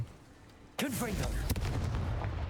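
A Confringo fire blast spell from Hogwarts Legacy erupts suddenly after a quiet moment, a bright whooshing burst with a sharp crack and lingering crackle, loud and close, with a second impact shortly after.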